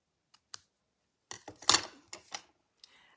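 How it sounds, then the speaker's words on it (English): Scissors snipping craft paper or cardstock at an angle for a Stampin' Up! Love and Courage stamped card: a few sharp, close cuts come in a quick cluster, with two light snips before and one after. "I'm just going to cut these on a bit of an angle."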